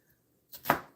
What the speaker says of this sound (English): What we doing with onions? I'm chopping them for supper.